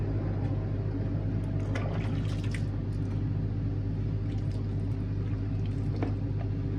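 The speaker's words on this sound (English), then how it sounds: "You start by just pouring water all over it" Tepid water poured over a horse's coat while it is washed before a show, a continuous close splashing and trickling over a steady low background hum.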